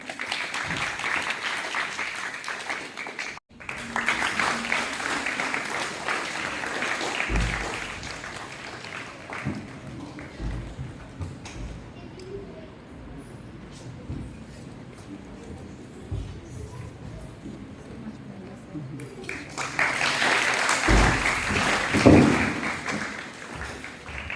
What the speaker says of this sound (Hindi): इतनी सुंदर प्रस्तुति के लिए एक बार फिर से जोरदार तालियां होंगी